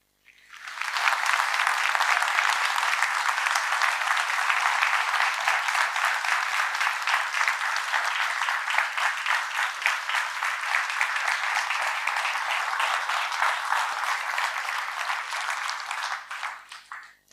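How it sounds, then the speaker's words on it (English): Sustained applause from an audience in a seminar room: dense, even clapping rising quickly, holding steady for about fifteen seconds, then tapering off, heard close and without talking over it. "I hope you were able to hear the applause from the room here."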